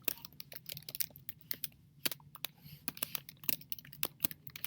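Rapid, uneven clatter of typing on a computer keyboard: close, crisp key clicks in short bursts with brief pauses, a couple of sharper taps standing out, over a quiet room.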